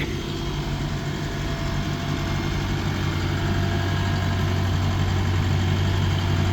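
An asphalt road roller's heavy engine runs steadily while it rolls over fresh pavement with no vibration, a loud, constant low rumble with a strong hum throughout.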